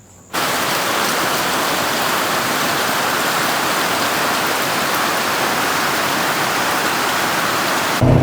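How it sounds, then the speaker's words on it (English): Heavy rain pours steadily in Townsville, a dense continuous hiss that stays loud and even from just after the start to the end, with no voices. "it's just been raining non-stop here in Townsville"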